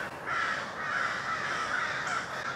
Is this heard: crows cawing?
yes